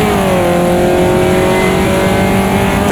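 A Caterham race car engine in Automobilista 2 at Cadwell Park drones loud and steady at high revs through an upshift, a sustained buzzing note with dense harmonics filling the whole stretch.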